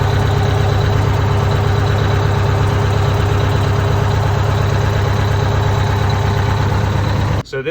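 A steady engine idles with a deep, even rumble and a smooth rhythm throughout, cutting off abruptly near the end, after a busted oil line is replaced and the oil topped off.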